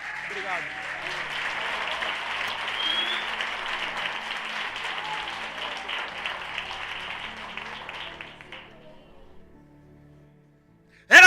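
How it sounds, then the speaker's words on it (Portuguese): A church congregation applauds during a Sunday celebration service, a dense, steady wash of many hands clapping that carries on for about eight seconds before fading away into near silence. "Você pode aplaudir o Senhor acima da sua cabeça?"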